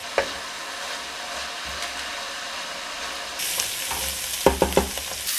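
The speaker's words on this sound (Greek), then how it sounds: "Θα το σοτάρουμε μαζί με το κρεμμύδι ώσπου να μαραθεί καλά το κρεμμύδι" Onion and spring onion sauté in a hot pan with a steady, close sizzle, stirred a few times near the end with scraping clatters while preparing courgette lasagna.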